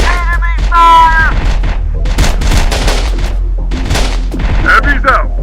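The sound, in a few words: gunfire in the video game Terminator Dark Fate Defiance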